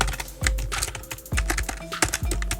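Fast clattering keystrokes on a computer keyboard while coding a React Native app, loud and close, in quick bursts of several keys with brief gaps.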